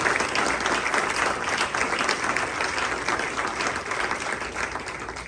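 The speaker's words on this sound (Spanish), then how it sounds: "Que le va a dar un aplauso al Señor, eso lo bien fuerte" A congregation at a church service gives the Lord a strong round of applause, thick, continuous clapping filling the room at a steady level and tapering a little toward the end.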